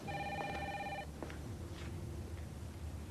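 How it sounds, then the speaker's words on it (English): A landline telephone bell rings indoors in a quiet house, two clear trilling rings near the start, then silence with faint room noise as an answering machine is left to pick up. "It's just a phone."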